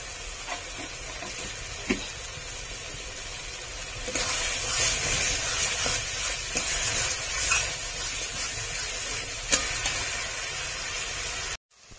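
Spices fry in oil for a chicken and raw jackfruit curry, a steady close hiss and sizzle with occasional stirring knocks, no talking.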